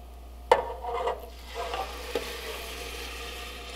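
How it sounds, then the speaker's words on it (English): A spoon stirs chicken broth and water in a pot, giving a sharp clink followed by soft scraping and swishing sounds that come close and fairly quiet, with no one talking. "Give that a stir"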